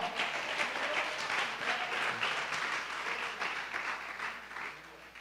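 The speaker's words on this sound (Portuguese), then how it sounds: "Você pode aplaudir ao Senhor com o seu melhor?" A Portuguese-speaking church congregation applauds the Lord, with steady, dense clapping from many hands that swells slightly and then eases off near the end.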